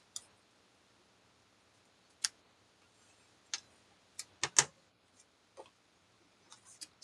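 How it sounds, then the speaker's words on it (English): A white paper piece for a stamped greeting card is trimmed down to size, producing a handful of sharp, isolated clicks and snips scattered across quiet pauses. "I know it's a little bit bigger than I need. So I'm just going to trim that off."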